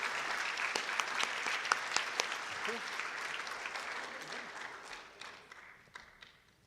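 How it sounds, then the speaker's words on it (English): An audience applauds at a school awards ceremony, a steady patter of many hands with a few sharper claps, tapering off gradually and fading out toward the end. "Let's give them one more round of applause."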